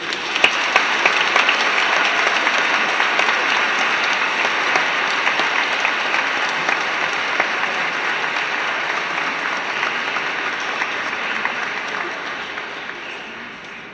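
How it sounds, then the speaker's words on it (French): A church congregation at a Chrism Mass applauds the dean priest, a dense, steady clapping that carries on for about thirteen seconds before tapering off at the end. "je crois qu'on peut applaudir le curé doyen de ce lieu"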